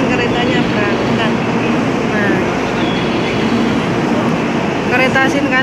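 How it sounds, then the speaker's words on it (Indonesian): A Shinkansen bullet train bound for Hiroshima, heard at a station platform, gives a loud, steady rumble that fills the whole stretch. People talk over it. "ini kita sedang menunggu kereta Shinkansen jurusan Hiroshima"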